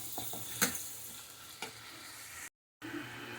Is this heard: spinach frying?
yes